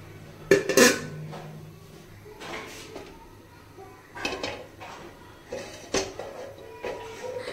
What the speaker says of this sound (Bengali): এরপর গ্যাস অন করে তাতে একটা কড়াই বসিয়ে দিয়ে দেব সাদা তেল